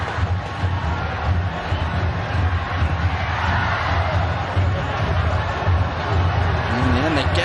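Stadium crowd at a Hanoi home football match against Altyn Asyr of Turkmenistan, a dense steady roar of voices and cheering throughout, lifting slightly near the end.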